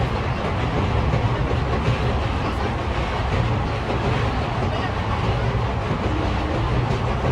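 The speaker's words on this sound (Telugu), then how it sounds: "మనం ట్రావెల్ చేస్తున్న ట్రైన్ అయితే బ్రిడ్జ్ మీద ఆపుతూ అయితే ముందుకు తీసుకెళ్తూ ఉన్నాడు" An intercity express train rolls slowly across a railway bridge, heard from aboard as a loud, dense, continuous rumble and low rattle of the carriages that stays steady throughout.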